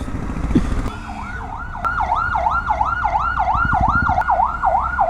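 An emergency vehicle's siren wails along a road in a fast, repeating rise-and-fall pattern, loud and close for several seconds, with brief rumbles and clicks of nearby traffic underneath.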